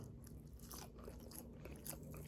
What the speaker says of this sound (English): You can hear that crunch on the skin.